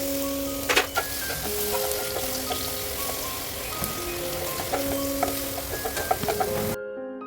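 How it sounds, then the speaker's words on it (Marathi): Crushed spicy green chili thecha fried in oil in a kadhai on a gas stove for maswadi, a low continuous sizzle with scraping stirring sounds and brief clinks, close by. "त्यानंतर गॅसवर एक कढई ठेवा, त्यात तेल व बारीक केलेला झणझणीत मिरचीची ठेचा घालून परता"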